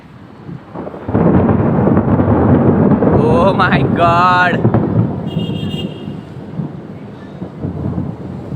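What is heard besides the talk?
thunder in a lightning storm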